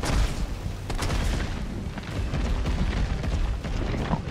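Shotgun fire in the game Resident Evil 3 Remake, heavy booming blasts going off in a dense, rumbling sequence with no pause between them.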